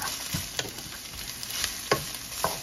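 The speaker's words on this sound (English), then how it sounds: "Kind of saute these down." Vegetables sautéing in a pan for Singapore noodles give a soft, continuous sizzle broken by a few sharp stirring taps and scrapes from a utensil over a couple of seconds.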